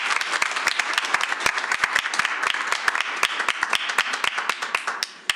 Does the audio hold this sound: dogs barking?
no